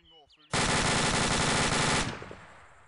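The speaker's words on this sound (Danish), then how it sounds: "Der blev skudt." A loud, sustained burst of machine-gun fire erupts in a military video game, lasting about a second and a half at close range before cutting off into a fading echo, with a voice briefly heard just before.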